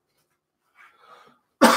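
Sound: cough

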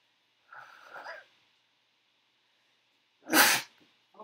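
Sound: sneeze

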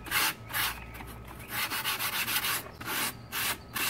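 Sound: sanding a foam utility pole prop with sandpaper

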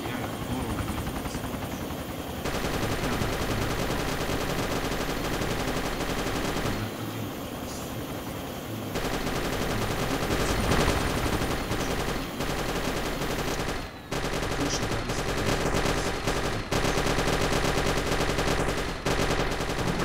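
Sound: gunfire in video game ARMA 2

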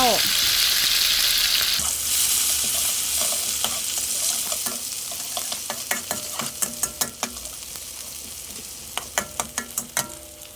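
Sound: shallots frying in hot oil

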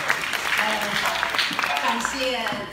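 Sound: audience applause at a quyi performance

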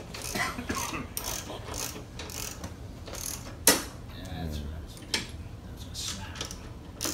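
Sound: removing motorcycle shock bolts

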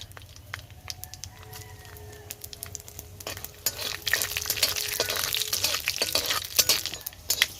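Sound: dried chillies and panch phoron frying in hot oil

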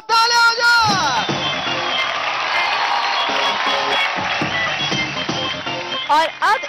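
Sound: studio audience applause and cheering

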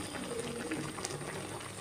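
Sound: water boiling in pot

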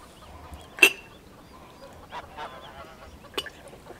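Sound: geese honking and roosters crowing on a farm

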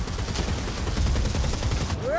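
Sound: Ratling gun firing, from video game Warhammer: Vermintide

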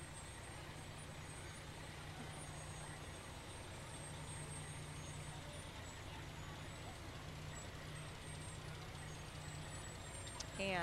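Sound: fire department ladder truck driving in parade

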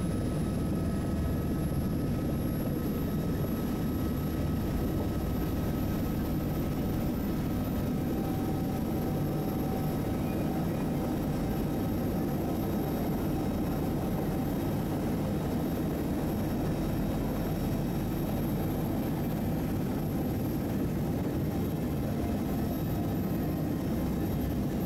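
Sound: helicopter

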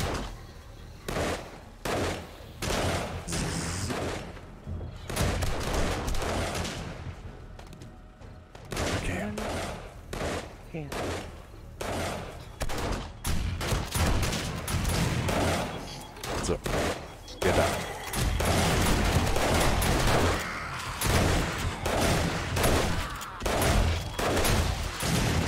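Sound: gunfire in video game 7 Days to Die

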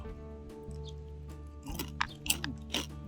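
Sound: crunching and chewing crab claw

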